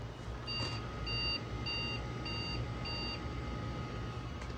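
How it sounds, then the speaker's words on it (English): A Dell Studio 540 desktop PC gives five evenly spaced, high electronic beeps at startup over a steady fan hum, each short tone clear and alone. "I booted the PC and it gave me 5 beeps."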